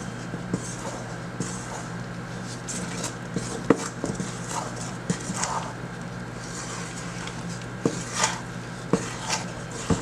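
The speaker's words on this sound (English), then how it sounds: "Just mix it in well," Flour stirred into chocolate cake batter in a bowl, soft continuous mixing with scattered light clinks and taps of a utensil against the bowl, close and fairly quiet.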